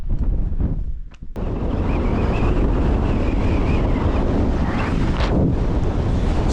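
Strong gusting wind on an exposed mountain fell roars across the microphone, loud and continuous, with a brief lull before buffeting back in full force.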